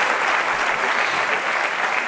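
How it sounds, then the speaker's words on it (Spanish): A small group claps for about two seconds, a steady, moderately loud round of applause with no talk over it. "Un aplauso."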